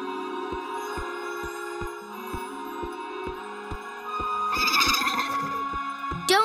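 Cartoon sky horses neigh and whinny from a cloud house after a hailstorm, with regular clip-clop style thuds under light music, then a brief rising burst of whinnying near the end.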